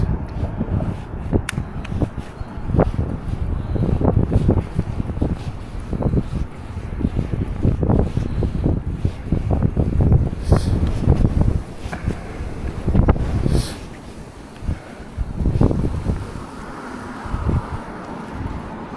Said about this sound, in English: Man, it is so windy today